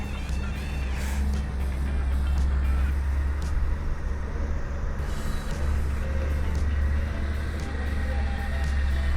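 A 1961 Ford truck rolls past at an antique truck show, its low engine rumble loud and steady throughout with continuous traffic-like drone and no talking.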